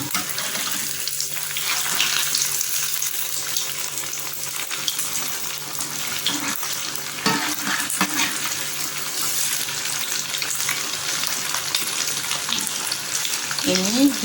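Siomay made from banana blossom frying in hot oil: a constant bright sizzle and crackle with occasional stirring clatter, close and fairly loud, with a few brief faint voices.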